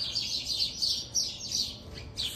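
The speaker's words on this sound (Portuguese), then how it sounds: "Gente, olha os passarinhos no meu quintal." Small birds chirp and tweet in a backyard, with repeated bright bursts of calls, some overlapping as if squabbling, at a moderate distance with no talking.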